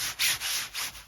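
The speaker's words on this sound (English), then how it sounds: "If you hear a noise, it's my trousers" Cargo trousers rustle and swish as the wearer moves, giving three broad, soft scraping swells of fabric close by, with no talking.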